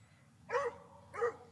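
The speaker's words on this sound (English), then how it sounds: "God, will that dog shut up?" A dog barks twice at close range, two short loud barks spaced about half a second apart over a faint background hum.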